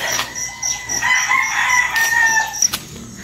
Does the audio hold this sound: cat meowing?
no